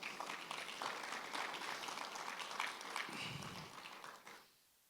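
A church congregation applauds the Lord during a sermon, a quiet but dense wash of clapping that holds steady for about four seconds before fading quickly to silence.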